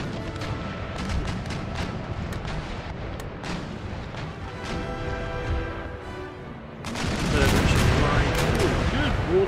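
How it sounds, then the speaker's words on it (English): Naval cannons fire round shot in a broadside in Empire: Total War, with repeated heavy booms and rumbling artillery fire throughout, growing louder and denser toward the end. "Start pumping them with round shot."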